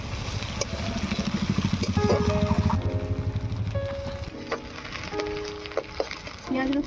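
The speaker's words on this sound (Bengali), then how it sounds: "পেঁয়াজ রসুনটা কিছু ভেজে নেব।" Onion and chopped garlic paste fry in a pan, a steady close sizzle that fades and crackles unevenly, with a few clinks and tonal kitchen sounds over it.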